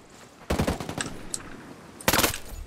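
Two bursts of rapid automatic gunfire in the shooter game Ghost Recon Breakpoint, the first lasting about a second and the second shorter, loud and close with no talk over them.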